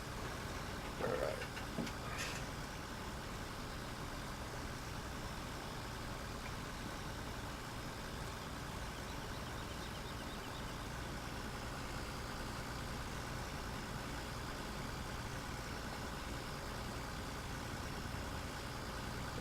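A John Deere 7R tractor with a front loader idling in Farming Simulator 17, a steady low engine drone running unchanged for the whole stretch, with a brief small clatter near the start.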